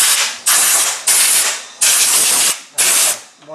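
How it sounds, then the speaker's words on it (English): Four sharp bursts of compressed air blasting dirt off a 2001 Buick Park Avenue engine's cylinder head around the valve cover bolts, loud hissing spurts with short gaps between them, close up and with no talking. "you may want to blow that off in there if you have compressed air"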